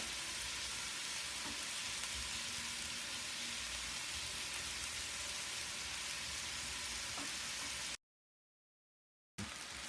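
Cooked rice frying in a pot with shrimp and vegetables gives a steady, dense sizzle for about eight seconds, with a few faint clinks from stirring, then stops abruptly and returns briefly.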